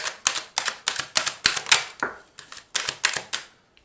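Tarot cards being shuffled by hand, a series of about a dozen crisp riffling snaps in a steady rhythm, close and clear, with no talking over them.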